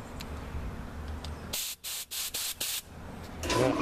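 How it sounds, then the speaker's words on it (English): Compressed air blasting through a welder's wire liner to clear out dust, heard as several short sharp bursts of hissing air over a low background hum. "I blow compressed air through there after I've got the wire out."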